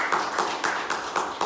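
Church congregation applause: a brief run of rhythmic clapping, about five sharp claps in a steady beat, close and fairly loud.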